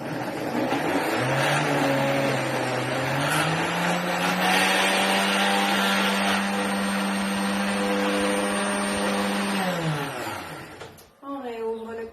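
A blender whirs loudly and steadily, blending leaves with a little oil, its motor pitch climbing then holding high before winding down, followed by a brief restart.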